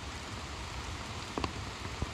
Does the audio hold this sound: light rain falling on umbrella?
yes